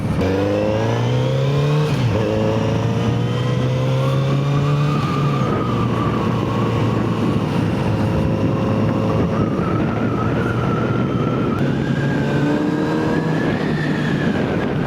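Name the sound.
motorcycle engine with stock exhaust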